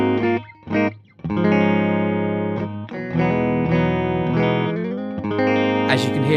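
A Telecaster runs through an NRG Effects PUMPER-072 boost pedal into a valve amp and miked 2x12 cabinet. A few quick stabs lead into sustained, loud, close chords and notes, ending with a brief scrape.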